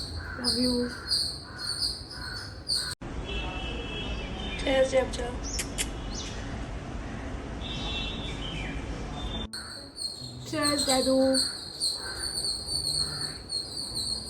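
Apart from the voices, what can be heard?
birds chirping loudly outdoors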